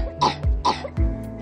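Two sharp coughs in quick succession, close and fairly loud, in the manner of the coughing machine from Ferris Bueller's Day Off, with no talking around them.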